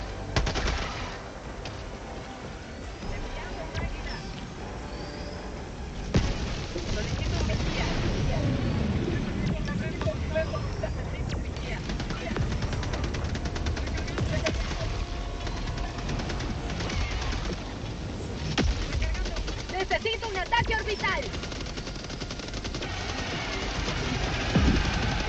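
Sustained automatic gunfire and explosions from the video game Helldivers 2 fill the clip, a dense, loud, continuous battle din with bursts layered over engine-like rumble and wind noise.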